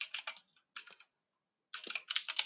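Fast clicky typing of Python code on a computer keyboard, three close bursts of rapid keystrokes separated by brief silences.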